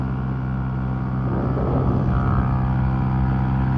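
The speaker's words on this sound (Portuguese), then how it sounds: "Vamos dar uma acelerada aqui." A Titan motorcycle engine drones loudly and close, holding a steady rumble while the revs climb slightly partway through as the bike accelerates, with no voices.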